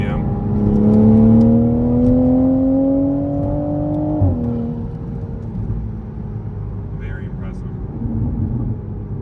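The engine of an A90 Toyota Supra pulls up through the revs near 4,000 RPM as a steady, rising drone heard from inside the car, then drops away on a gear change to a lower hum, with people talking over it.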